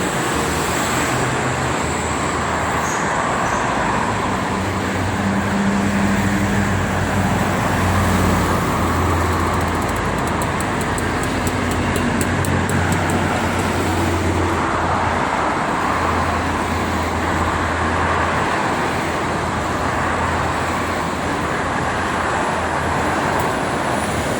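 Steady, dense roar of cars and trucks streaming along the Jakarta–Cikampek toll road toward Jakarta, a continuous broadband wash of tyres and engines with heavier truck rumble swelling and fading through the whole stretch.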